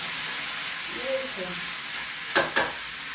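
Cabbage frying in a pan hisses in a constant close sizzle, with a faint voice briefly in the middle and two sharp knocks near the end.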